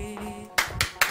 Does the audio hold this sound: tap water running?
no